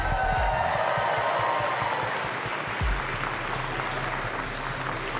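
A large crowd at a Pokémon UNITE World Championships event applauds and cheers in a steady, dense roar, with thumping low beats underneath during the first few seconds before the clapping carries on alone.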